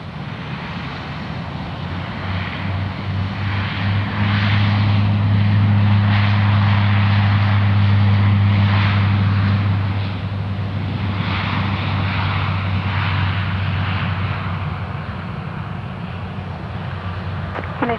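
An airplane takes off on runway 03 at Perth Airport, its engine roar building into a loud steady drone with a strong low hum that peaks mid-clip and then slowly eases off as the aircraft climbs away.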